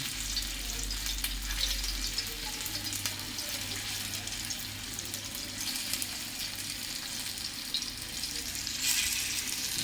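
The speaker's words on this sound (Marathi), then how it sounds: "मी तुम्हाला आता सॅलो फ्राय हे असं ह्या तेलात सोडणार आहे थोडं" Alu vadi pieces shallow fry in oil in a pan, producing a steady, dense sizzle with faint crackles that holds evenly throughout, close and moderately loud.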